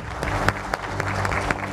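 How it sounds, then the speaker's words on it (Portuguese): Steady audience applause at an agricultural good-practices forum in Brazil, brief and even, with individual claps audible within the crowd sound. "eu peço uma salva de palmas"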